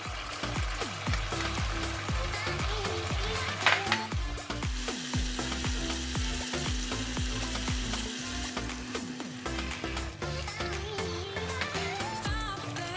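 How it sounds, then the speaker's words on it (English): Chicken stir-fried with red capsicum and sweet chili paste sizzles steadily in a hot pan, with continual scraping and clattering of a spatula stirring the mix, close and loud throughout. "now I'm going to put in the red capsicum and put the balance of the chili paste."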